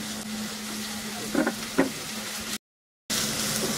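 Chopped onions fry over high heat in a pan, a steady close sizzle with two soft knocks partway through and a brief cutout before the hiss resumes.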